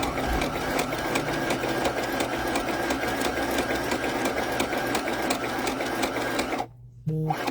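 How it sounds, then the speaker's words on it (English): A sewing machine stitches across the bottom of a fabric floating pocket, running loud and steady with a rapid mechanical chatter for several seconds before it stops abruptly near the end. "I just wanted to show you one time on the sewing machine how easy it is to sew it"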